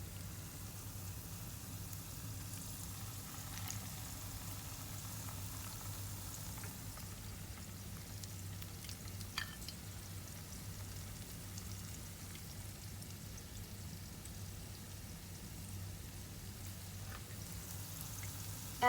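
Courgette and feta patties fry in oil in a pan, giving a faint, steady sizzling crackle that holds evenly throughout with occasional tiny pops and no talking.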